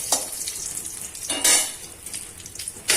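Two dried red chillies and cumin fry in a spoonful of ghee in a kadai, giving a soft sizzle broken by sharp hissing bursts as the spices are stirred.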